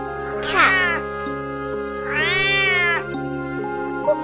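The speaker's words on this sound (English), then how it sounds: "Cat." A cat gives two clear, drawn-out meows, close and loud, separated by a short pause, over a quiet musical backing, with no talking.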